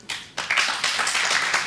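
Brief burst of audience clapping that starts after a short pause and continues steadily, fairly close and moderately loud.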